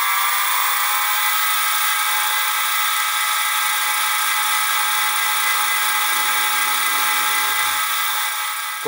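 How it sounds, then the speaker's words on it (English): A high, steady whining drill runs continuously up close while boring pin holes in a small engine sheave held in a collet block, part of a Stuart 10V reverse gear build. "I've drilled the holes for the pin"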